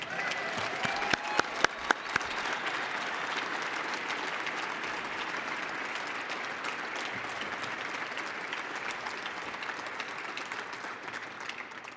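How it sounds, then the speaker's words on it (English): A gala audience of honor guard guests applauds steadily for twelve seconds, broad sustained clapping with a few sharper individual claps near the start. "please continue that applause for Belinda O'Connor."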